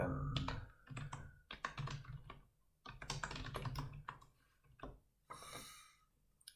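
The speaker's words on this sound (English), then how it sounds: "Let me type" Steady rapid typing on a computer keyboard, dense clusters of close, crisp key clicks with brief pauses between bursts.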